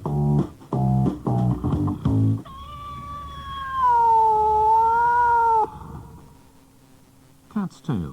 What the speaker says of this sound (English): that's the ship's cat telling me it's time to head for dry land